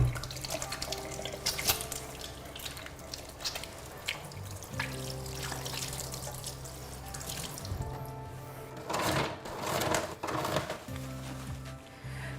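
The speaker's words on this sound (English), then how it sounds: "it's really important that you wash your hands before preparing your baby's bottle" Hands are washed under a running tap while preparing a baby's bottle, a continuous quiet stream of water splashing into a sink with brief louder surges and shifts as the hands move through the flow.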